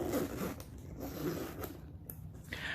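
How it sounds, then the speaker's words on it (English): Zipper on a Louis Vuitton Speedy bag pulled with a leather tag, a few short, quiet, close rasping zips separated by brief pauses. "that little leather tag that makes it so much easier for you to pull and push the zipper"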